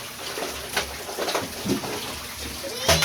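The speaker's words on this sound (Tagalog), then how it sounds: "Yung maganda nating shower. Pangdilig ng halaman." A steady spray of water from an outdoor garden shower used for watering plants hisses continuously close by, with a faint voice and some light splashes mixed in.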